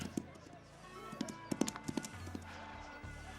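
Video game horses clip-clop in a quick uneven run, several sharp knocks clustered together over a low rumble, fading out near the end.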